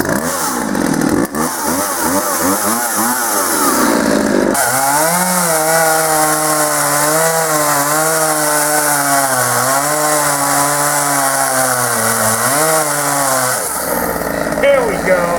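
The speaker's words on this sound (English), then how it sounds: "We're gonna go take it out and cut a little bit of wood with it" Chainsaw pulled from a dumpster and restored, cutting wood: a loud, steady buzzing engine that revs up and bogs as it bites through the log, running continuously for most of the stretch, with a short idle at the start.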